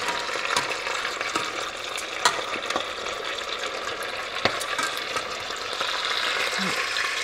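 Coq au vin chicken pieces frying in oil in a pot, a steady crackling sizzle with scattered pops and spits throughout, fairly quiet and continuous with no talk.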